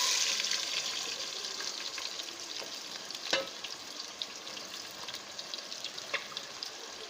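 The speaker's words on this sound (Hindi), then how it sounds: "अब हम इसमें डालेंगे कटी हुई प्याज" Chopped onions hit hot oil and fry with a steady, fine crackling sizzle, fairly quiet and close, broken by a sharper splatter or clatter midway and a few scattered pops.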